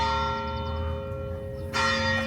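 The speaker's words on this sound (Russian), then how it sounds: "Сегодня прям перезвоны." Church bells chime on a Sunday in a cosy little town on Gran Canaria, ringing steadily under a low outdoor hum, then swelling louder with a fresh, bright peal near the end.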